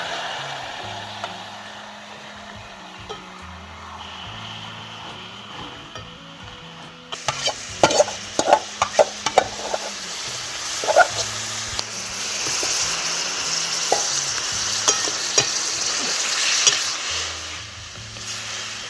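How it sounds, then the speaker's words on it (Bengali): Marinated chicken frying in a pan of oil with bay leaf, whole cardamom, cinnamon and cloves, a steady broad sizzle with a sharper burst near the middle and scattered spoon clinks and stirring scrapes. "এইবার দেব এই ম্যারিনেশন করা চিকেনটা।"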